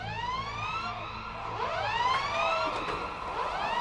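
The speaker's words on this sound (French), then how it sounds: "elle fut accueillie par les hurlements des sirènes" Air raid sirens wail in the video game Valiant Hearts, several overlapping tones rising and falling together in long sweeping cycles, steady and fairly loud with no voices.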